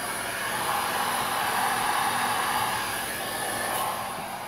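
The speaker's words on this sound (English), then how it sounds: "I don't know if you can hear me over the blow dryer" A blow dryer runs continuously at close range, a loud, steady whooshing hiss with no break and no talking.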